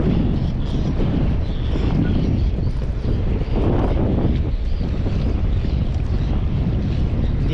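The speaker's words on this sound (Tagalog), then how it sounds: "Kaso medyo malakas ang hangin eh." Strong wind buffets a microphone outdoors beside water where a fishing net is being cast, a loud, steady low roar with rumbling gusts that lasts throughout.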